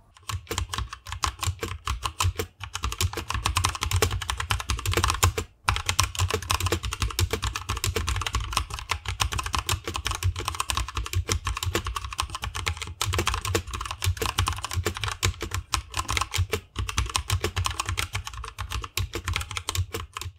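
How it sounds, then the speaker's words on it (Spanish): Continuous rapid typing on a Mantistek GK2 mechanical keyboard with black switches, dense clacking keystrokes close to the microphone with a couple of brief pauses, no talking. "Aquí os dejo con un test de sonido para que escuchéis cómo suena este teclado."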